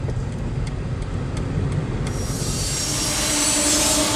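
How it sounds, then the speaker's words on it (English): Steady rumbling and rolling of a train going by nearby, a continuous loud roar with a brighter metallic hiss building toward the end. "One more train on its way"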